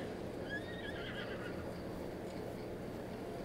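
Horse neighing in a Zelda video game, a single clear whinny rising and falling in the first second and a half, heard alone over a low steady game background with no talk.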